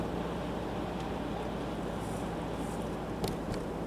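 Car tires roll along a wet, slushy road, making a steady broadband hiss and rush with low road rumble throughout, close and continuous, with a brief splash near the end.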